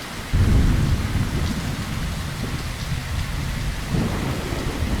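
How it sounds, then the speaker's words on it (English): Steady heavy rainfall with low rumbling thunder in Fallout 4, a dense continuous wash of rain that swells louder at the start and again near the end, with no voices. "I really wish it wasn't raining again."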